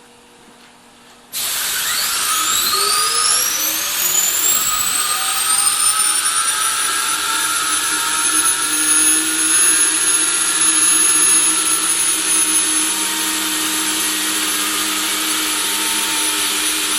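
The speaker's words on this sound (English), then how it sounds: "This is going to get a little bit noisy with the air grinder." Pneumatic air grinder grinding the inside bore of metal bushings in a machine shop, starting abruptly and then holding a loud, steady high-pitched whine close up for the rest of the clip, with no talking.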